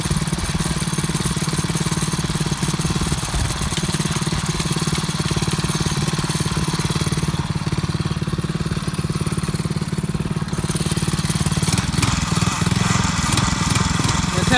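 The engine of a 2021 DEEPROCK HD 55 Pro Series water well drilling rig runs steadily and loudly for the whole stretch, a constant close mechanical drone with a slight shift near the end and faint voices beneath.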